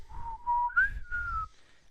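A voice imitates someone whistling late at night: four clear sustained whistled notes, the later ones rising in pitch, close and distinct with no other sounds.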